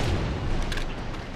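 SMG gunfire in the video game Halo 2, a brief dense stretch of rattling, booming shots, loud and continuous, without talk.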